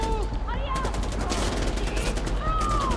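Gunfire in Far Cry 4, rapid dense shots rattling continuously and loudly throughout, with brief whooshing effects mixed in.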